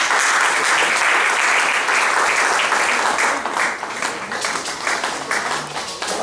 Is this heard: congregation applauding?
yes